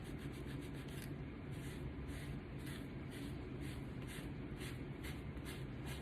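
Paint lightly rubbed by hand over a laser-cut wood piece, a faint continuous brushing friction in short repeated strokes, close up with no voices over it.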